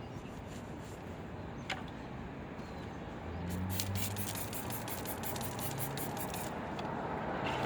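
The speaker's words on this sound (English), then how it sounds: "I really let the pressure washer do the work." A pressure washer sprays a dirty car during mobile auto detailing, giving a steady broad hiss that grows louder partway through, with rapid spattering bursts against the bodywork near the end.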